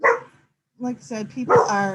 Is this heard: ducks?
no